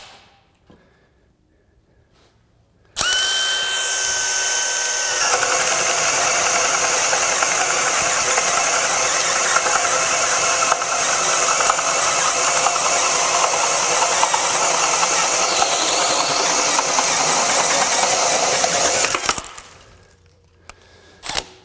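A DeWalt 20V cordless power tool running on a 6Ah battery cuts through dimensional lumber. After a quiet start, a loud, steady motor whine and cutting roar holds for about sixteen seconds, then stops abruptly.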